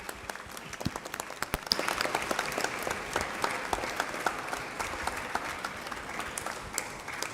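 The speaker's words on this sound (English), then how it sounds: "Can you clap loudly for them?" Schoolboys and guests at a school Founder's Day program applaud their parents, a dense steady wash of clapping with a few sharp nearby claps standing out, lasting throughout.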